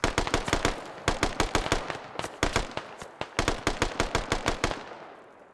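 Heavy automatic gunfire in a military squad shooter game: dense, rapid bursts of shots in quick succession with brief pauses, loud and close, with no talking.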